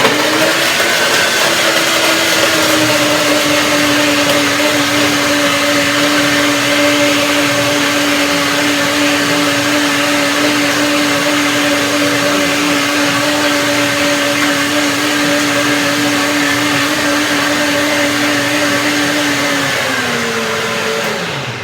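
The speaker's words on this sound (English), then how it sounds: "A relatively short blend because I have a third ingredient to add" A blender whirs steadily at full speed, blending macadamia chocolate cream for a short run, a constant loud motor drone with a stable pitch that winds down as it switches off at the end.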